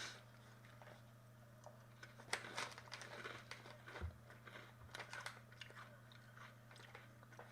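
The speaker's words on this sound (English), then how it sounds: "Can you hear me crunching?" Cheese and onion crisps crunched close to the mouth, with a burst of crisp chewing and crinkling packet noises over a steady low background hum.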